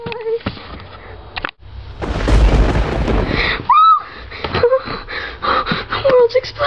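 Loud rumbling thunder crash during a night storm, a broad roaring burst swelling for a couple of seconds, with a sharp crack and people's voices and exclamations around it.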